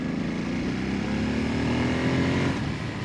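A Ducati Monster twin-cylinder motorcycle engine pulls steadily in third gear, a continuous close-up buzzing drone with a slowly rising pitch and no voices over it.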